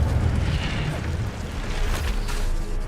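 An Incendio fire spell is cast in Hogwarts Legacy, a loud, deep roaring burst of flame with a rumbling, explosive body that holds steady for a few seconds.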